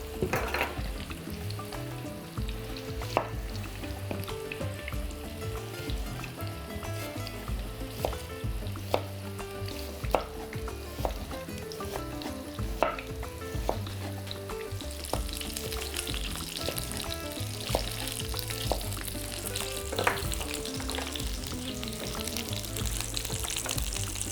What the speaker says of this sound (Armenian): յուղի մեջ կտապակենք երկու գլուխ սոխ